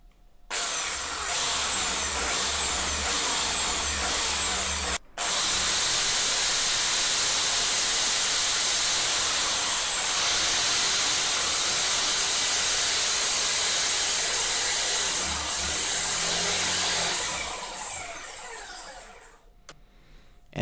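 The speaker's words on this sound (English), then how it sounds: "Now it's time to use the drill to make the holes for the tuners." A power drill bores tuner holes in wood for a homemade stick electric guitar, giving a loud, steady, hissing whine with one brief stop near the start before it runs on and tapers off at the end.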